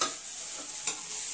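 Chicken curry cooks in a hot pan, giving off a faint, steady sizzle with a few soft stirring scrapes, and no voices.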